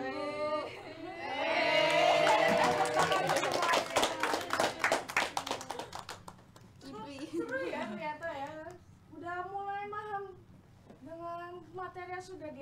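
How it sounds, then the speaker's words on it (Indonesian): A classroom of students claps together in a burst of applause that fades after several seconds, followed by children and a teacher talking. "Tepuk tangan semuanya."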